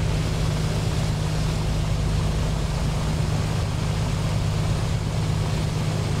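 Piper Comanche light aircraft engine idling steadily just after start in MSFS 2020, a constant loud low drone with a strong propeller hum, running alone without talk.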